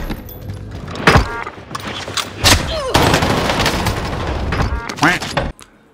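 An MP40 submachine gun fires in a video game on Rebirth Island, with loud close bursts and scattered single shots over busy game noise, then an abrupt cut to quiet.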